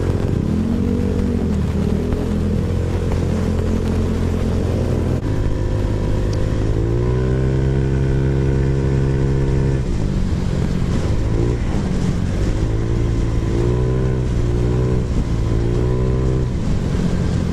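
A Honda Click 125 scooter engine fitted with a Z5 camshaft revs loud and close. Its pitch repeatedly climbs and falls through several throttle blips, with no talking.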